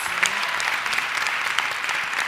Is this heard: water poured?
no